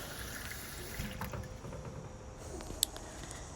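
Water poured into the bottom of a pressure canner for canning pork tenderloin, a steady soft rush and trickle running throughout at moderate, even loudness.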